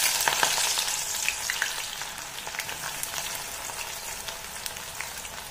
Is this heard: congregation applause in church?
no